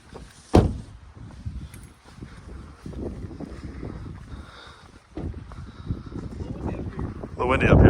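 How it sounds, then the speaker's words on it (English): Wind buffets the microphone outdoors on a mountain during truck camping, gusting in low rumbling bursts under nearby people talking. "A little windy up here."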